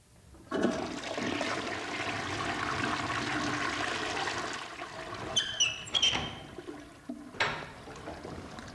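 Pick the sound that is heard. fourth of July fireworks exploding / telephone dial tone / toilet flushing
toilet flushing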